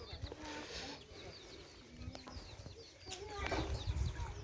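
Chickens clucking near pigs in a Marma village, with soft scattered clucks and chirps over a noisy outdoor background and a person talking nearby.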